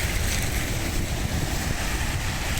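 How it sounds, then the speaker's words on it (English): Strong wind roars steadily across an exposed roundabout near Stirling, Scotland, buffeting the microphone with loud, continuous broadband rumble and gusts, with no other distinct sounds. "So, well, look how windy that is."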